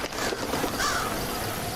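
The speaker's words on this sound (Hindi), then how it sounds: "इतने सारे कौवे वगैरह कहाँ से आ गए?" Several crows caw in the Hello Neighbor 2 video game, a short burst of harsh, fairly loud calls heard alone with no talk.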